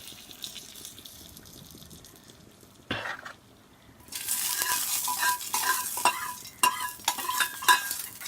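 Hot tempering hits simmering dal for Andhra pappu pulusu, setting off a sudden loud sizzle and crackle after a quieter bubbling start, with spatters continuing to the end and no talking.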